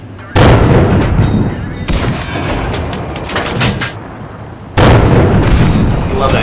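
Loud, close booming cannon shots from a Cromwell tank in a tank video game, three heavy blasts spaced a couple of seconds apart, each trailing into a rumbling tail.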